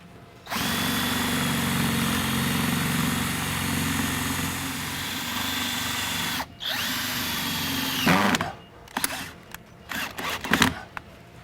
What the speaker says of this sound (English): We need to run the other two screws in.